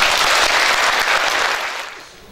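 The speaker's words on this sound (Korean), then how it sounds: "큰 박수 한번 부탁드릴게요" Dense, steady applause from a gathered crowd of district office staff at a 2020 New Year opening ceremony for Yeongdeungpo-gu, filling the room and tapering off near the end.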